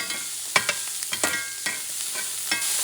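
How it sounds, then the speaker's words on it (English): Garlic frying in a hot pan while being stirred, a steady bright sizzle broken by several sharp scrapes and taps of the utensil, close up with no talking. "Garlic burns fast, so you have to move this and do this for about 45 seconds"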